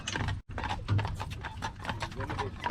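A horse's hooves clip-clop steadily as it pulls a buggy on a covered bridge tour, the rhythmic beats running under people talking.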